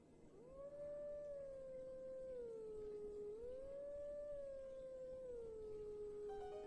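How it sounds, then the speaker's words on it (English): A wolf howl from Zelda Twilight Princess HD, one long sustained tonal howl that rises, dips and rises again, loud and clear over a faint steady game background. "Alright, I got a howl."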